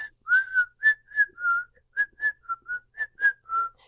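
A person whistles the tune from the film Kill Bill, a clear close melody of short rising and falling notes in an even rhythm, alone with no talk or background.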